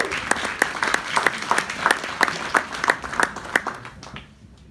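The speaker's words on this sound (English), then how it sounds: "So another round of applause." A forum audience applauds in a brief round of clapping, a steady patter of fairly close hand claps that fades out over the last second.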